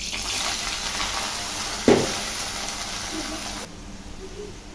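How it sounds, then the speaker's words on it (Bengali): Bitter gourd (ucche) frying in mustard oil in a pan, a steady broad sizzle with a brief louder burst partway through before the frying noise drops lower near the end. "সরিষার তেল দিয়ে দিলাম। এখন উস্তাটাকে ভেজে নেব।"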